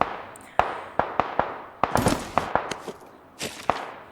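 Gunfire in PUBG Mobile's Matrix mode: sharp, cracking shots fired one by one at irregular intervals, with a quick cluster in the middle. The shots are moderately close and heard alone, with no talking.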